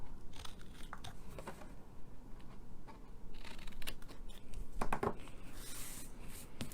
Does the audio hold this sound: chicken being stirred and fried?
no